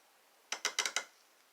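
Five quick clicks from an Icon Gen 2 half-inch drive locking flex head ratchet, crisp and close, in a short burst in an otherwise quiet space.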